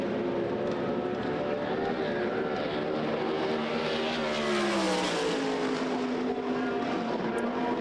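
A USAC Silver Crown race car at speed on the Springfield Mile dirt oval, its engine droning steadily and shifting in pitch as it passes, continuous and fairly distant.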